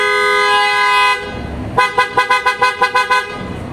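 A PIAA Auto Style horn fitted to a Toyota Vios blares in one long sustained press, then sounds in a quick series of about eight short toots, loud and close with a bright, brassy tone.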